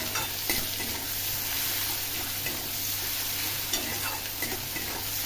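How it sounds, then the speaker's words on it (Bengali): Onions frying in a pan, a steady close sizzle with occasional stirring scrapes and crackles, no talking. "পেঁয়াজ ভাজা"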